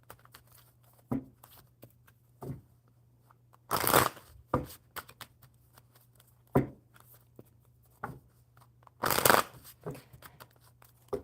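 Tarot cards are shuffled by hand in several short bursts of riffling and tapping. Two longer, louder riffles stand out among quieter card clicks, with pauses between them and a low steady hum underneath.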